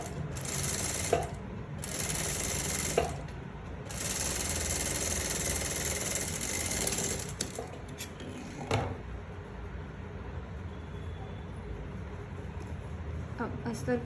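A sewing machine stitches a princess-cut blouse in three bursts of fast, buzzing mechanical running with short pauses between them, then goes quiet as a few clicks and light handling noises follow.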